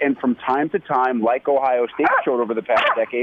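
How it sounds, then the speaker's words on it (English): A dog barks outdoors, somewhat distant and partly buried under continuous close-up talk from a man on a radio sports show. "My dog clearly agrees with me, if you can hear him barking outside."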